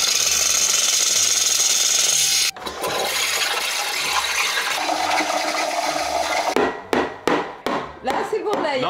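An espresso machine flushes water through its group head before coffee is made, a loud rushing hiss that cuts off abruptly, followed by continued watery noise and then several sharp bursts of sputtering near the end.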